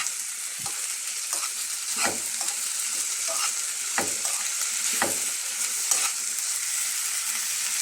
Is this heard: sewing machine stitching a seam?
no